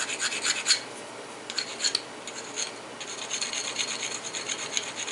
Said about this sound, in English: Go ahead and grind off real good where I'm going to put those side notches.